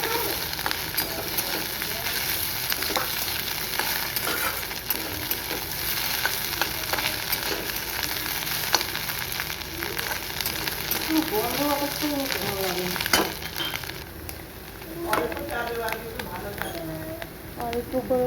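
Onion, chilli and potato fry in a pan, giving a steady low sizzle with occasional scraping stirs while someone speaks over the cooking throughout.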